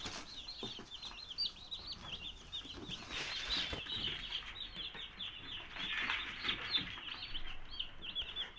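A group of baby chicks chirp continuously in high, rapid peeps, close and moderately loud, with light rustling and shuffling among them.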